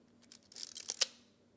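A quick series of small mechanical clicks and ratcheting ticks from a camera's film advance lever being wound, ending in a sharp snap, close up and otherwise quiet.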